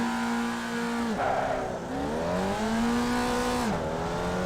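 Formula Vee race cars pull away from a standing start in iRacing at Oran Park, engines droning and climbing in pitch, dropping briefly at gear changes, with no voices over the steady roar.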